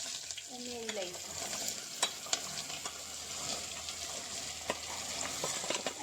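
Okra and potatoes fry in a pan with green chillies, a steady sizzle broken by sharp scraping stirs of a spoon against the pan, close and fairly quiet.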